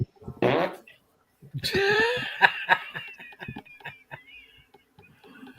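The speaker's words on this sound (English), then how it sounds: "if that was an angry grandpa fart, you would hear" A loud, drawn-out fart with a rasping flutter, followed by a run of short sputtering bursts and snickering laughter.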